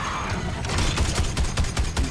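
Evolve's auto cannon fires in a loud, close, fast barrage, its repeated shots thumping in a steady rhythm that builds after a brief lead-in.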